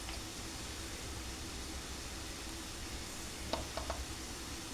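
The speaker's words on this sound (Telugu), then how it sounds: "ఒక 2 నిమిషాలు అయితే కారం అంతా పచ్చివాసన పోయే వరకు మనము వేగనిద్దాం పనస గింజలు అనేది" Jackfruit seeds fry with chili powder and salt in a pan, giving a continuous low sizzle and hiss, with a couple of brief spoon scrapes near the end.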